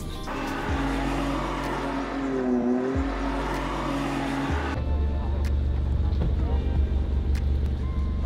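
A Maserati rolls through an S-curve on a race track during a track day, its engine drone loud and close with a shifting pitch and a gear change midway, under continuous wind rush.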